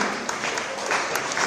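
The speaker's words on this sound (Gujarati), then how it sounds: "જોરદાર તાળી." A crowd applauds a state-level basketball gold medal winner at a school event for deaf and mute children in Ahmedabad, giving a short, dense burst of clapping that stays steady for its whole length.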